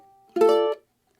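Ukulele playing the final notes of Dance of the Sugar Plum Fairy, a short bright strummed chord ringing briefly alone, then silence.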